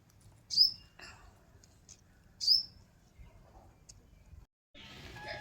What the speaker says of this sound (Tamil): அந்த குருவி வந்து எப்படி சத்தம் போடுதுன்னு பாருங்களேன்